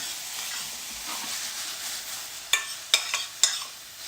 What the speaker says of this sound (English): It's starting to sizzle away now.